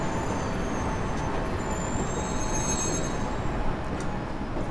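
AI-driven subway train in World of Subways 4 running at rush hour, a steady loud rumble of wheels and carriage noise with faint high squeals throughout, no talking.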